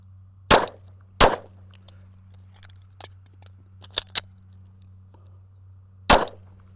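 Pistol shots in a Mozambique drill at 7 yards: two sharp, loud cracks close together, a few lighter clicks and clanks, then a third sharp shot after a pause.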